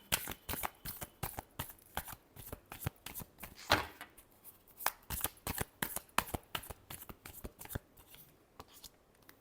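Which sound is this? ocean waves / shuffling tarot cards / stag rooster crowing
shuffling tarot cards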